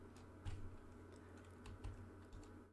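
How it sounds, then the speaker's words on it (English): Close-up typing on a computer keyboard, a steady run of light key clicks with a few heavier strokes, heard alone at low level. "Here, you need to type in ipconfig/flushdns"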